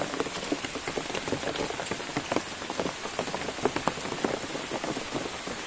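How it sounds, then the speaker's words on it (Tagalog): Steady rain pours down in a forest during a storm, a dense hiss of drops with scattered louder splatters on leaves and ground, continuous and close throughout. "Ulan dito."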